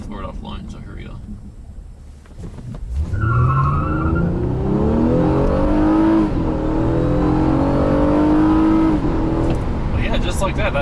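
A 2014 Honda Accord with a tuned V6 pulls hard at full throttle, its engine note climbing steadily in pitch through the gears, loud and close from inside the cabin, with a brief tire squeal at launch.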